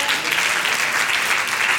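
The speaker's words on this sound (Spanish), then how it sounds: "te pido un aplauso para él" A church congregation applauds, a brief, loud, dense round of many hands clapping with no break.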